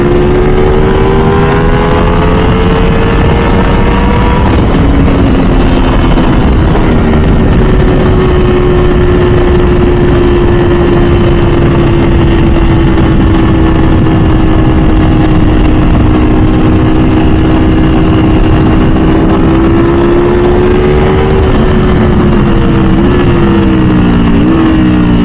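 A Ducati V4 SP2 motorcycle engine drones loud and close on a canyon road, a strong buzzing tone that climbs, dips briefly at gear changes and pulls again, steady throughout with no talking.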